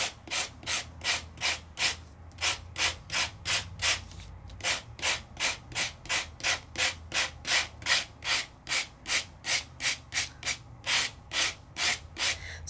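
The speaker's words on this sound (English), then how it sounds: "I'm going to do a light sand." Light sanding of embossed paper in a card-making craft demo: about two dozen steady, rhythmic rasping strokes, close and even, with brief pauses, and no voices.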